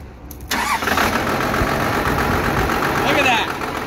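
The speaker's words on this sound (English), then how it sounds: "I just turned the fuel back on. I'm gonna give it a little bit of throttle just to, you know, make sure that the pump is on." A 12-valve diesel pickup engine restarted after the fuel is turned back on, a steady loud rumbling idle with a brief throttle rise near the end.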